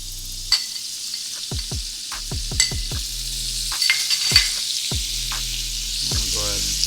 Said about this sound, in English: My butter is already starting to melt because the fire is hot.